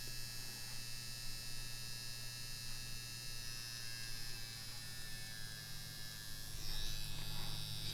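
A Yilong F5 wireless tattoo pen running slowly at 8.5 volts, a steady close electric hum and buzz with a fine high whine that holds even throughout and swells slightly near the end, without talk.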